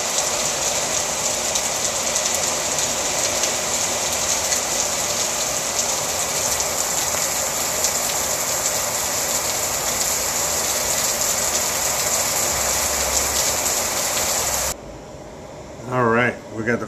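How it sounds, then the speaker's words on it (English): Heavy rain blows sideways in Merida, Mexico, a dense, loud, unbroken hiss that lasts about fifteen seconds before cutting off abruptly, followed by a short burst of someone talking. "It's raining sideways like Forrest Gump said, huh?"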